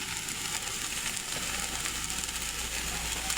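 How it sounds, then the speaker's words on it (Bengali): Hot water is poured into a sizzling pan of tilapia fish curry with cauliflower and potato, producing a steady, close, fairly loud hissing sizzle. "গরম জল দিলাম।"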